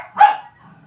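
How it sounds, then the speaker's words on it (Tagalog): A single short, sharp dog bark rings out at moderate distance, indoors or nearby, with quiet background afterward. "ang ingay ng aso"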